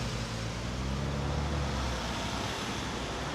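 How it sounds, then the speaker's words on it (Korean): Steady, loud roar of road traffic as cars pass close by, with continuous engine and tire rumble and no talking. "지금 차가 또 열심히 달리고 있습니다."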